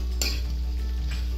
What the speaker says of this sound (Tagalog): Kailangan natin itong haluin ng maayos.